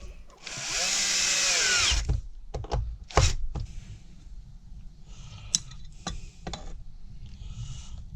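A power drill fitted with a hole saw bit whines loudly for about a second and a half as it cuts wood, followed by thunks, clicks and clattering handling noises.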